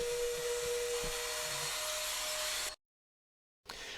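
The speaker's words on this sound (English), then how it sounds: "Putting the trimmer bit in an electric drill allows one to get into some very tight places" An electric drill fitted with a laminate trimmer bit gives a steady high-pitched whine continuously for nearly three seconds, stops abruptly, then starts up again briefly, during a boat bulkhead repair.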